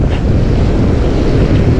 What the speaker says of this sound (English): It's a little windier than I would like